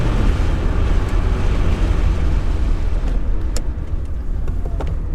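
A 1983 Porsche 911 SC drives along at a steady road speed, its engine running as a continuous loud, dense rumble mixed with road and wind noise, with no talk.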